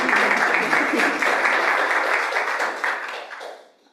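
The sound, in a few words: audience applause at school board meeting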